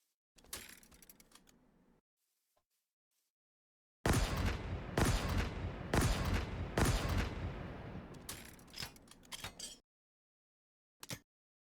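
Bursts of rapid gunfire from the Mangler weapon in the video game Dawn of the Flood, several close, loud volleys separated by silences, ending with one short final burst.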